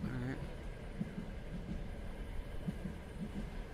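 Faint train ambience playing in a VR app: a low, steady rail rumble and rolling clatter sitting quietly beneath a person talking.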